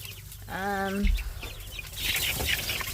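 Three-week-old Red Broiler meat chickens, a clear nearby cluck-like call followed by softer scattered clucking and rustling, with faint voices in the background.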